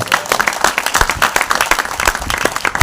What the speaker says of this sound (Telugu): పట్టండి గట్టిగా చప్పట్లు